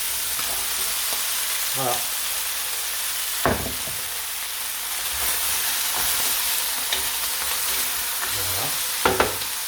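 Lamb, garlic, carrots and tomatoes sizzle loudly in a pot for a navarin stew, a constant close frying hiss broken by a few scraping stirs of the spoon, with a brief spoken word near the end.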